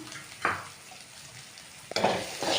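Sambar dal and onions frying in a pan with a steady low sizzle, broken by a few louder scrapes of a spoon stirring against the metal.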